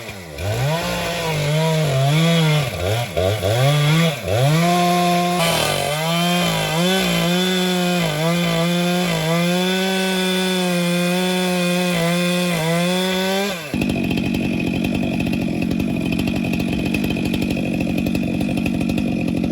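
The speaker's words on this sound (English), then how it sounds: "Decided to come up to the firewood pile, start cutting some firewood and maybe splitting tonight." A chainsaw cuts red oak firewood at a woodpile, loud and close, the engine pitch rising and dipping through repeated cuts before settling into a steady whine and then dropping to a rougher idle near the end.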